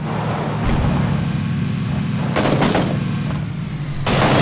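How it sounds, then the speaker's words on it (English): Gunfire in a PUBG video game gunfight, a continuous dense clatter of shots and bursts at steady loud level throughout, with no talk. "let's join in the gunfight"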